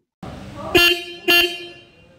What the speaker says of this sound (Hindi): अभी जो आप इसके हॉर्न की आवाज़ सुन लो